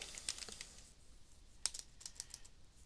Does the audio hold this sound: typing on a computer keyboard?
yes